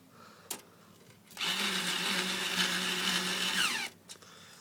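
A power drill drives a screw into a PC case, whirring loudly and steadily for about two and a half seconds after a brief click, then stopping abruptly.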